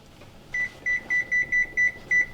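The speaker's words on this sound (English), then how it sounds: "We'll set the timer." Kitchen timer being set for baking marble brownies, giving seven short, clear electronic beeps at an uneven tapping pace, fairly close and alone over quiet room tone.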